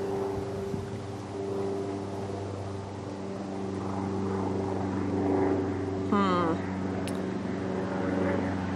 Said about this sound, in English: Hello, planes.